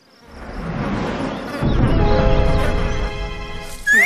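Insects, likely bees, buzz near a beehive outdoors, a dense swelling drone close to the listener that grows louder partway through and holds steady, with a brief higher whine at the very end.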